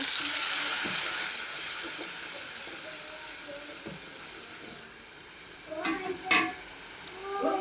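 Garlic dropped into hot oil sizzles with a steady, close hiss while small fish are being cooked with satkora. A few sharp utensil clicks and stirring scrapes come near the end.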